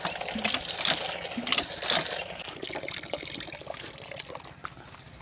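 Water runs through newly fitted toilet plumbing in a farm comfort room: an uneven trickling, gurgling flow, fuller at first and then thinning to a softer dribble.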